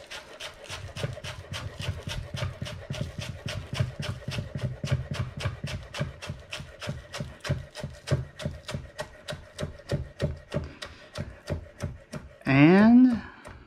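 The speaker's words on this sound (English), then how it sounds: "I'm gonna cut up the rest of these green onions" A knife chopping green onions on a cutting board in a steady, rapid series of crisp, close taps, followed by a brief higher rising sound at the end.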